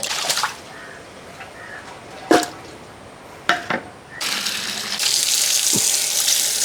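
Tap water runs into a kitchen sink while a planji fish head is rinsed for a fish curry. A few sharp clatters and splashes come first, then a steady loud gush of running water.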